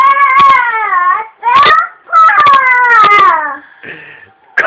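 A young child mimics a rooster's morning crow with loud, close, drawn-out wavering vocal calls in several bursts, ending with a brief softer sound.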